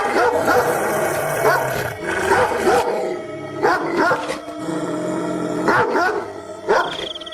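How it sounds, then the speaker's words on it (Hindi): A neighbor's dog barks loudly and repeatedly up close, sharp aggressive barks coming in quick bursts with short pauses between them. "शेरू सीमा को देखकर बहुत जोर जोर से भौंकता है।"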